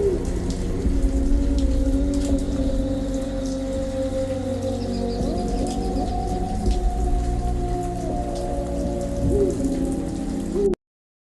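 Heavy rain pours down steadily at night around one in the morning, a dense continuous hiss with a low rumble that may be distant thunder, holding at an even level throughout without any voices.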